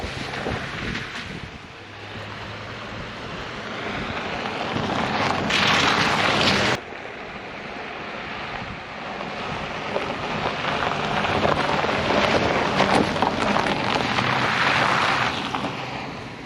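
A 2024 Cadillac XT4 AWD Sport pushing through a huge puddle, a continuous broad rushing wash of water and road noise that swells around the middle, with some wind buffeting on the microphone.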